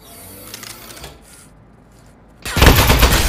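Aperture Science Turret from the game Aperture Desk Job opening fire: a loud, sudden burst of rapid shots after a quiet, faintly whirring lead-in, sustained to the end.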